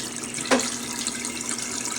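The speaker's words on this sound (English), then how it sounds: "Okay, the water is draining out right now." Water draining from a Haier HLP21N washing machine drum holding a lot of water, a steady close rushing wash with a brief sharper splash early on and no voices.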